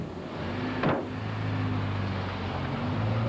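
A car pulls away on a rural New Zealand road near the Waiotapu Tavern after dropping off two hitchhiking men, giving a steady, even engine rumble with no voices.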